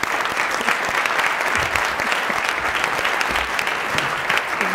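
Audience applause welcoming Dr. Shakti Butler to the stage fills the room, a steady, loud wash of many hands clapping continuously with no voices over it.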